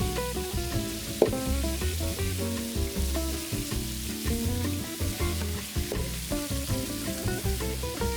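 A whole chicken, neck and feet included, sears in palm oil at the bottom of a pot, giving a steady, close, continuous sizzle with a few sharp pops and no voices.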